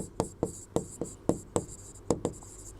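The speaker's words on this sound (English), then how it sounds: "So I will write morphine" A marker scratches out letters on a board in about nine short strokes with small gaps between them. The sound is close, clear and even in rhythm, and nobody speaks.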